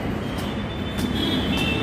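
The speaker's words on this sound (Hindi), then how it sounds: "ये मेट्रो स्टेशन है" Metro station ambience at NHPC Chowk, with a loud, steady rumble of a train and traffic noise filling the space and faint high tonal squeals over the top.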